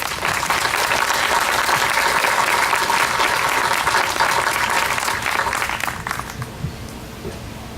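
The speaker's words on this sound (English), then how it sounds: "they deserve a round of applause" An audience applauds city workers at the 2018 Miamisburg Bicentennial opening ceremony. The clapping is loud, dense and sustained for several seconds, then thins out and fades near the end.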